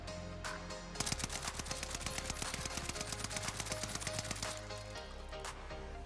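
Rapid automatic BAR rifle fire in a first-person shooter game, loud sustained bursts of closely spaced shots with brief pauses, heard alone without talk.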